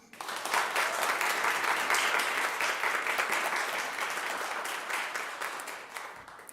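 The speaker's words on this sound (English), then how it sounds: "Will you please join me in a round of applause?" A congregation at a Sunday service bursts into sustained applause, dense clapping swelling quickly and holding strong for several seconds before tapering slightly near the end.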